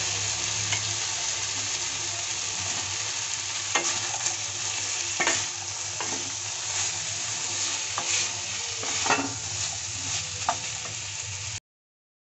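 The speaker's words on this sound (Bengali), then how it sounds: "এখন আমি দিয়ে দিচ্ছি কেটে রাখা সবজিগুলো।" Chopped cluster beans stir-fried with lightly fried potatoes in a pan: a steady, close sizzle with intermittent scraping and clinking stir strokes throughout, no voices.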